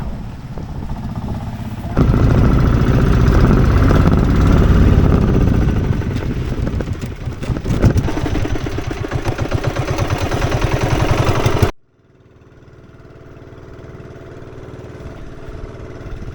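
A motorized fishing boat engine runs loud and close with a steady chugging drone that wavers in pitch, then cuts off abruptly, leaving only faint background noise.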